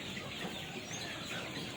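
A busy, steady chorus of KUB native chickens, young chicks of the improved kampung breed raised in West Java, cheeping and clucking close by with no pauses and no voices.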